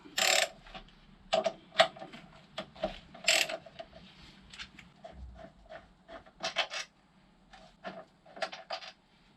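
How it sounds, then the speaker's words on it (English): A ratchet wrench clicks and clatters as 12mm bolts on the front brake caliper of a Kawasaki Z800 motorcycle are undone, with bursts of quick metallic ratcheting separated by short pauses, close and fairly loud. "And then we need to undo these 12mm bolts."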